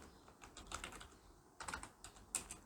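Soft, close keystrokes on a computer keyboard as HTML is typed, in two or three short bursts of rapid clicking separated by brief gaps, with no talking.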